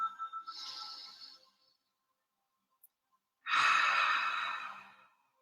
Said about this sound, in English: a deep inhalation in through the nose, twice as long exhalation out an open mouth